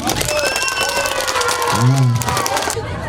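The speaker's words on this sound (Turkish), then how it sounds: "bana diyenler alkışlasınlar" Children at an outdoor festival clap and cheer together in a crowd, a steady burst of applause under a voice speaking over a loudspeaker.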